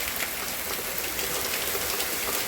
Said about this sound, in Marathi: खूप मोठा पाऊस आलेला आहे